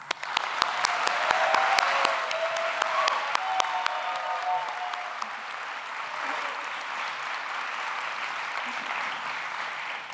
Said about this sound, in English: Graduates, please join me in showing our appreciation with a round of applause.